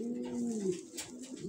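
A reduced-colour domestic pigeon on the T-pattern coos: a low, drawn-out rolling coo, close and clear, over faint background noise.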